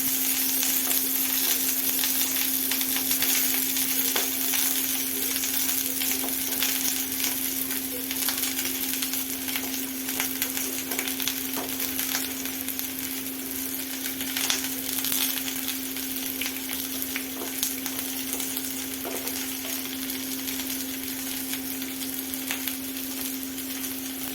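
Two dried red chillies and onion frying in hot oil for kaara chutney, a steady even sizzle that holds close and unbroken throughout, with an occasional faint tick.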